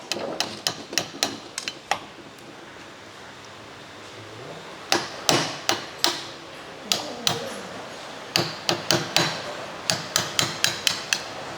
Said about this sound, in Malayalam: ഈ ഒരു സൈഡിൽ തട്ടി കൊടുക്കുമ്പോൾ ഇത് സിമ്പിളായിട്ട് ഇളകി വരും